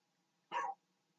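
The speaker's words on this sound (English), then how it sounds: "That dog is so loud." A dog gives one sharp, short bark, loud and close, against near silence.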